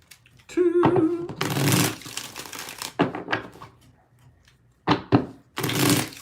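Tarot cards being shuffled in several separate bursts of loud riffling and slapping, with brief pauses between them and a short voice-like sound near the start.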